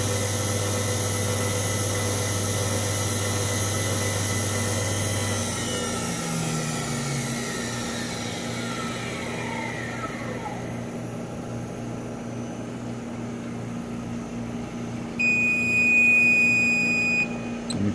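CEEBrewer 200CB spin coater holds a steady high-pitched whine at 6,000 RPM, then its pitch drops and winds down as it slows; soft beeps sound near the end, with no talk.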